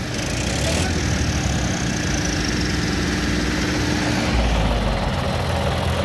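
A Mahindra 295 Turbo or 275 TU tractor engine idles steadily and close by in a continuous low rumble, with no talk over it.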